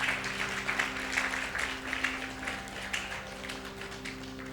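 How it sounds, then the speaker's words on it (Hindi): Audience applause at a lecture hall gathering, a steady wash of many hands clapping at moderate distance, fairly faint with a faint tonal hum underneath. "उन लोगों के लिए ताली होनी चाहिए।"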